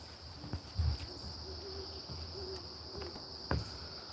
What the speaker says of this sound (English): And there are the owls.